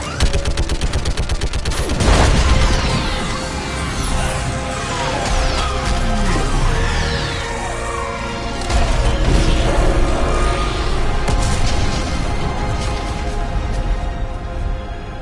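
Sustained gunfire rattles through a sci-fi shooter video game battle, with rapid repeated shots, a heavy boom early on and mechanical clanks and whooshing sweeps, loud and continuous throughout with no talk over it.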